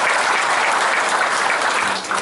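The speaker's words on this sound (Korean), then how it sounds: "박수 부탁드리겠습니다." Ceremony audience at a Gumi Chamber of Commerce Day breakfast meeting applauds an introduced guest, steady loud clapping throughout that eases slightly at the very end.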